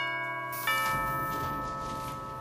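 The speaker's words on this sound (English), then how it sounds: "There's the doorbell" A doorbell chime rings once indoors. The tone is clear and sustained and decays slowly over a couple of seconds.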